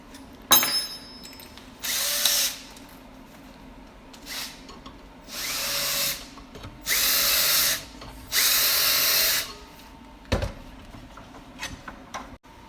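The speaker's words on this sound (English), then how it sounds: "So I drilled the bottom 3 holes bigger so that we can get a little bit of angle shimmy." A power drill boring holes in a metal mount for a Fanatec sim handbrake, heard as four loud bursts of whining drilling, each about a second long, separated by pauses and with clicks and handling noise between them.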